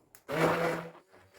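A blender briefly whirs through cheesecake filling made with corn starch, giving a short, loud burst of motor noise of about a second.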